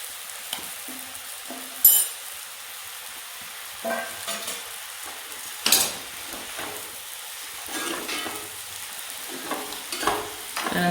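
Jackfruit flowers stir-fried with grated coconut in a pan, with a soft continuous sizzle broken by several scraping stirs and clinks of a spoon against the pan, close by, with no talking.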